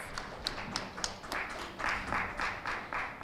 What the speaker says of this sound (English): Please give a round of applause to all our speakers.